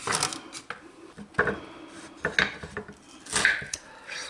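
A knife cuts through an onion on a board, giving several sharp, close chopping knocks spaced about a second apart, with softer scraping in between and no talking.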